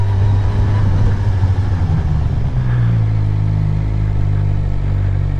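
Motorcycle engine on a beginner's ride, a steady low drone that lifts in pitch and then eases back down as the bike speeds up and slows for a turn, loud and close with constant wind rush and no talking.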